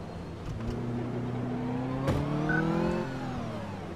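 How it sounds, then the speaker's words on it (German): Car reversing in the game KFZ Werkstatt Mechaniker 2014, a whining engine tone that rises and holds, with a rally-car-like gear whine, close and fairly loud with no talk. "Der Rückwärtsgang klingt wie beim Rallye-Auto."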